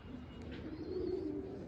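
Pigeons coo faintly in a rooftop loft, a low steady burble held at a distance against quiet background hiss, with no voices.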